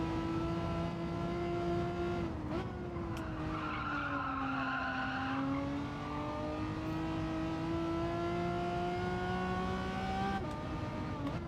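Porsche race car in Gran Turismo 7 with a loud sustained engine whine whose pitch rises and dips through gear changes, joined by tire squeal, with no talk over it.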